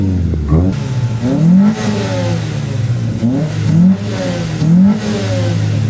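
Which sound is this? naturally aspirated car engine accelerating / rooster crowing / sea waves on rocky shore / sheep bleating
naturally aspirated car engine accelerating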